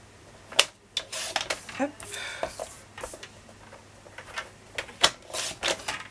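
Scissors snip through glue-coated craft paper for a Stamperia album, a run of sharp close clicks and crisp cuts, with a brief word spoken.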